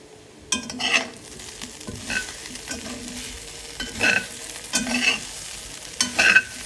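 Chicken and coconut with garam masala fry in a hot pan. A steady sizzle runs throughout, broken by several louder scraping bursts as a spoon stirs the mix, with no voices.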